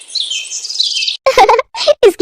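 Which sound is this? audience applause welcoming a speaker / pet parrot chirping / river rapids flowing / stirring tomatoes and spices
pet parrot chirping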